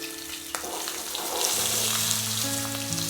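Chopped garlic and roughly cut green chillies sizzle in a pan for an Odia-style dry tindora stir-fry, with a sharp utensil tap, then a loud, steady frying hiss over a low hum.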